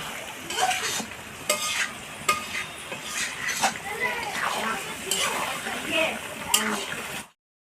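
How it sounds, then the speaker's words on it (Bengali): Mutton is stir-fried in a pan with splashes of hot water, giving steady loud sizzling with repeated scraping stirs and clinks of a spoon, running continuously before cutting off abruptly. "যতবার জল দেবেন কিন্তু গরম জল দিয়েই মাংসটাকে কষাবেন"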